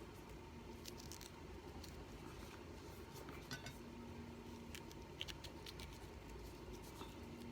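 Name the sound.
spoon scraping seeds out of capsicums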